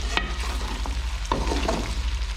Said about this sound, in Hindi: तो इसको मैं फ्राई कर लेती हूँ।